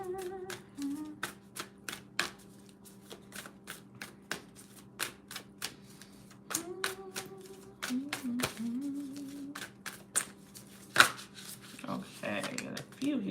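A deck of tarot cards is shuffled in repeated crisp riffles and snaps, close and clear, over a faint background hum, with a voice briefly heard near the end.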